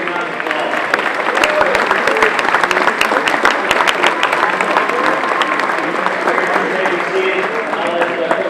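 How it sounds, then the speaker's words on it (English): Banquet crowd at a high school football dinner applauding the players' parents, a dense, steady wash of many hands clapping close and loud for several seconds without a break. "Let's give them a big round of applause."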